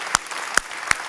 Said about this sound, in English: Let's give a big, big, big warm applause for all of them